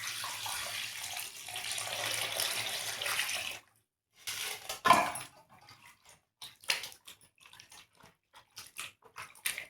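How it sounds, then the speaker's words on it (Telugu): Cut mutton is rinsed under running water in a home kitchen, a steady splashing flow for several seconds that stops, followed by scattered wet clatters and drips as the meat is handled. "ఇప్పుడు నీళ్ళు వేసి కడుక్కుందామండి."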